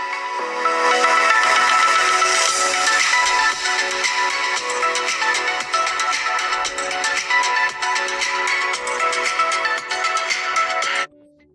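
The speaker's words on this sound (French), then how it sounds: "écoutons plutôt quelques sons sur ce téléphone" A ringtone melody plays from the speaker of an OPPO A6 Pro 5G phone, bright and continuous with sustained tones for about eleven seconds before cutting off abruptly.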